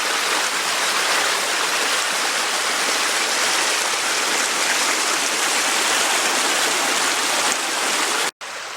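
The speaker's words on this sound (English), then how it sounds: "Actually another creek flowing down over there." Creek water flows steadily on a winter hike near the Pinnacle Overlook, a loud, continuous broadband rush close by, with a brief cut just before the end.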